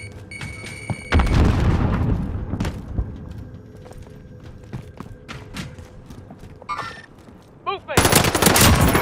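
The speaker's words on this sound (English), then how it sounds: "Grenade out!" A grenade bursts amid heavy automatic gunfire in an online shooter game, with a loud broadband blast near the end following bursts of rapid shots and scattered impacts.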